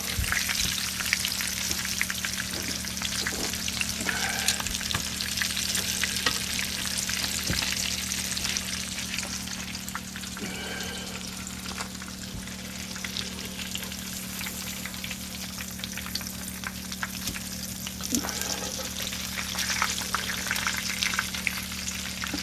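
Pork chops fry steadily in very hot oil with a constant crackling sizzle and occasional sharper pops, no talking.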